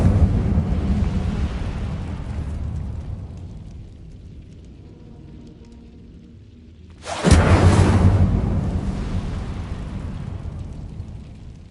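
The Incendio fire spell is cast in the wizarding video game Hogwarts Legacy: a sudden loud whooshing burst of flame after a quieter lull, roaring on and slowly fading.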